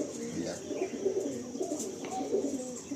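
Pigeons cooing close by, a group of soft, overlapping throaty coos rolling on steadily with a few light chirps mixed in, fairly loud throughout.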